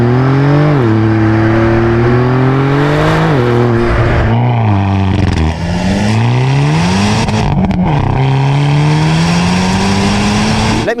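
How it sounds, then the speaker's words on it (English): Loud, close engines of a Hyundai and a Porsche rev up and drop as gears shift, one after another, with steady roaring acceleration throughout and no talking. "I'm gonna give you a montage of both cars driving"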